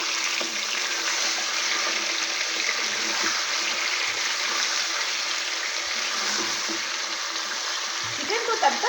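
Chicken sizzles in hot oil while being fried for Afghani karahi, giving a continuous, fairly loud crackling hiss that holds steady throughout.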